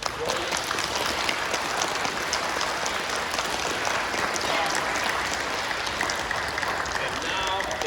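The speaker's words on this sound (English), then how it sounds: "Can you give a round of applause to my monsters for joining us?" A room of children, a third grade class at a school event, clapping in a dense, continuous round of applause with cheering and chatter mixed in, loud and close throughout.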